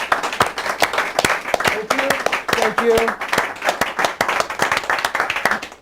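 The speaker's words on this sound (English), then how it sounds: "Can we get an applause for my co-host?" Studio audience clapping for a sports talk show co-host, a steady patter of claps under a person talking.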